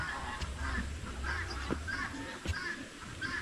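A pair of farm geese kept as guard birds honk in repeated calls, moderately distant and somewhat faint over a low outdoor rumble.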